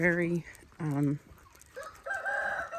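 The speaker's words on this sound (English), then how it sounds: "Our roosters are really good at finding stuff for our hens." Homestead chickens call in a few loud, close, drawn-out cackling and crowing bursts separated by short pauses, with roosters and hens together.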